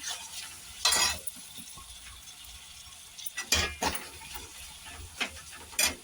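Chopped tomatoes are added and sautéed with onion and ginger paste in a pan for chole masala, with a few bursts of stirring and clattering separated by quieter stretches of soft frying.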